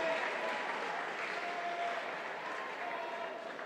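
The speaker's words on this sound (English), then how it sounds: "Let's give her a bit of a cheer." Crowd applause and cheering at a New Zealand age group swimming championship, a steady broad wash of clapping and voices filling the pool hall without pause.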